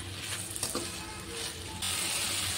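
Sliced okra and tomato pieces sizzling as they fry in a pan, a steady close crackle that grows slightly louder near the end, with faint stirring and no voices.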